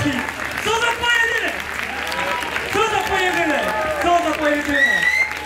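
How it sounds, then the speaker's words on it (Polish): An audience at a comedy roast battle applauds under loud, excited speech from a host, with the crowd clapping continuously beneath the voice. "Wielkie brawa, tak jest!"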